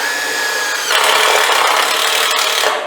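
A battery power drill drives screws into wood trailer decking, a loud, close, continuous whirring grind that rises in strain partway through, then tapers off.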